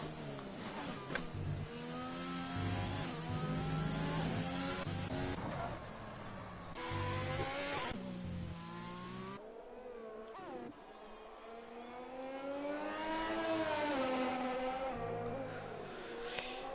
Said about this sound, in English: Drifting the car through.